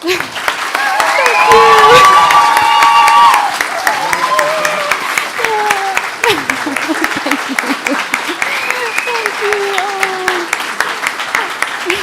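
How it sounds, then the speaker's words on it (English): Loud, sustained applause and cheering from an audience at a book presentation for a journal, with whistles early on and voices calling out over the steady clapping. "please give a big round of applause for Lisa"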